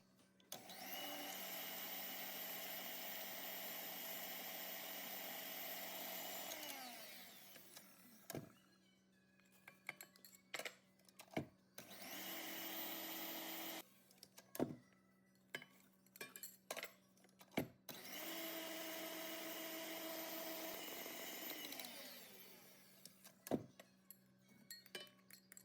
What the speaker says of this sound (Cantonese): 我哋呢就將蛋白打散佢，打到佢見到白色泡泡嘅時候呢